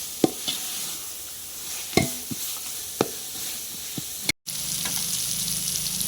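Mint sautés in hot oil in a pot for chicken biryani, a steady soft sizzle with a few sharp clinks of a spoon against the pan, then a brief dropout before the frying hiss resumes.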